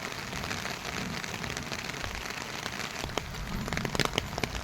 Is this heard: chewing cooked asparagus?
no